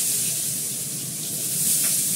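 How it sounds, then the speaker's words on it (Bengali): Potatoes fry in a pan with a steady, close hiss of hot oil, continuous and even, with no voices. "আলুটাকে ভালো করে ভেজে নেব আমি।"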